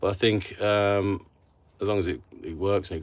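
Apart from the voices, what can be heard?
No distinct noise like a dog, phone or traffic.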